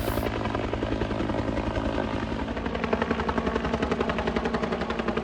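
A helicopter hovers over a transmission tower removal job, its rotor chop steady and rhythmic and growing more pulsing toward the end, with no voices.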